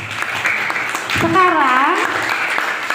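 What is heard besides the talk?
schoolchildren clapping hands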